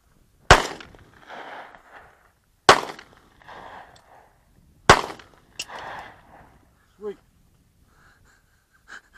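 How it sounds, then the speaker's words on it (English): Three loud 9mm self-defense rounds fired at a pumpkin, sharp cracks spaced about two seconds apart, each followed by a short burst of talk, with a faint clatter near the end. "this is going to be 9mm self-defense rounds on that beautiful pumpkin"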